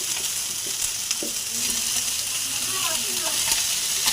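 Potato, pumpkin and pui shak being stirred in a hot pan for a fish-roe curry, a steady close sizzle with scraping spoon strokes running throughout.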